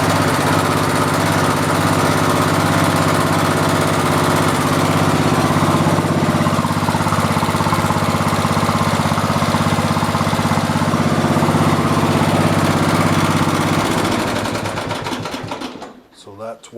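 An old, rebuilt Briggs & Stratton OHV small engine runs with a steady, loud mechanical drone and rapid chugging, close by, then winds down and stops near the end.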